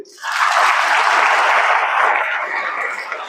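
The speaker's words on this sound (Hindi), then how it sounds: "अब एक बार ताली बजा करके जोर से" Students at a school values session clap loudly together, a burst of dense group clapping that starts abruptly, holds strongly, then slowly thins out near the end.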